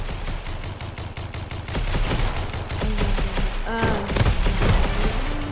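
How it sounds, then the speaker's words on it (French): Rapid, evenly repeated gunfire from a shotgun in a video game pounds on steadily and loudly, with a short voiced exclamation over the shooting. "Et je suis encore avec le meilleur fusil à pompe du jeu."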